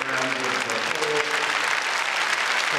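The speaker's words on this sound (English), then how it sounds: "please give a big round of applause" Audience applause fills an arena at the Crufts 2008 dog show after the Gundog Group judging, a dense, steady wash of clapping sustained throughout with faint crowd murmur and some voices beneath.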